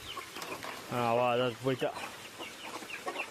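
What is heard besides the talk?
chickens clucking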